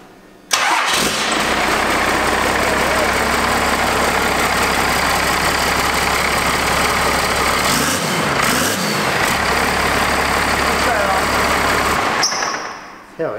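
A twin-turbo first-generation 12-valve Cummins diesel engine, high mileage, cranks and fires, then settles into a loud, steady idle with a constant low rumble lasting nearly the whole clip before cutting off near the end.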